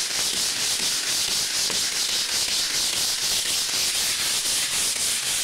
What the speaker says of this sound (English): Sand it all down.